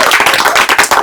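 Loud, dense clapping from a small group applauding a prize winner at a clothing wholesale shop in Ernakulam, rapid overlapping claps filling the moment with no talk.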